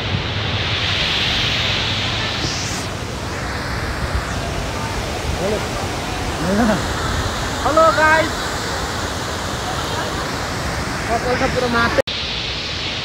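Rupse waterfall on the road to Mustang in Nepal, running with a heavy flow, roars as a steady, loud broadband rush throughout, with someone talking over it.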